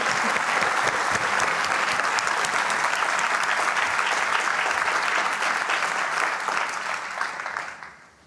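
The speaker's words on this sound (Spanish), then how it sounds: "Podem aplaudir-vos" An audience claps steadily at a doctoral graduation ceremony, a dense sustained burst of applause filling the hall that holds level for several seconds before tapering off at the end.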